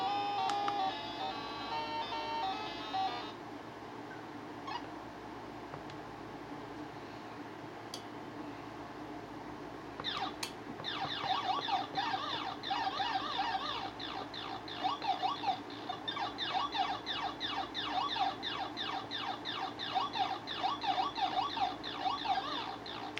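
Tinny electronic Galaga arcade music plays continuously from a My Arcade Micro Player mini console, with a repetitive beeping melody that gets busier and more rhythmic partway through.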